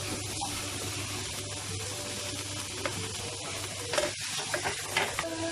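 Ginger and capsicum stir-fried in a hot pan for beef fried rice, a steady close sizzle with scraping stirs and a few louder clatters toward the end.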